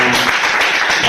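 A church congregation bursts into dense, steady applause at a worship service, the clapping filling the short stretch closely and loudly, with faint voices mixed in.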